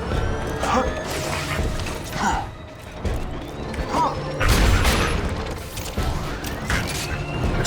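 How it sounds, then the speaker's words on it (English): Explosions in Borderlands 2, several loud blasts and crashing bursts mixed with clanking, creaking mechanical effects, the heaviest boom landing midway through, no talking. "Exploding."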